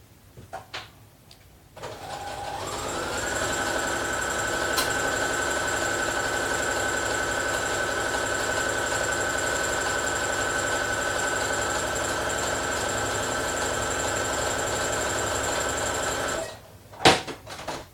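A sewing machine runs a basting stitch in one long, steady whirring hum lasting about fifteen seconds, close and even. It starts after a short pause with handling noises and stops with a clunk.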